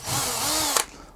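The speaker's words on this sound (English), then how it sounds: "let's take our balsa wood and just drill a hole right through it." A handheld power drill whines loudly as it bores straight through a piece of balsa wood, a steady high motor tone that drops in pitch before stopping with a brief clunk.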